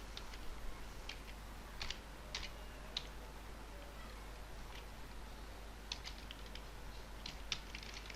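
Keys tapped on a computer keyboard while network settings are entered, sparse faint clicks in short clusters over a steady low hum, quiet and somewhat distant, no voices.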